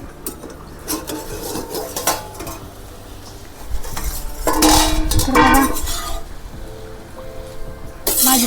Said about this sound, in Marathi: शेंगदाणा आणि हिरवी मिरची कुटून घेतले आता या भाजीमध्ये टाकायचे